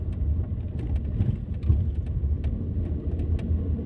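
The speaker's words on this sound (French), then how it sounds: "suis au volant d'une Volkswagen T-Cross de 2019" A 2019 Volkswagen T-Cross being driven, giving a steady low engine and road rumble inside the cabin with a few faint clicks and bumps, no voices.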